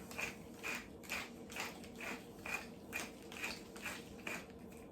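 A pepper mill grinds black pepper in steady, repeated ratcheting bursts, about two per second, close and crisp with no talking.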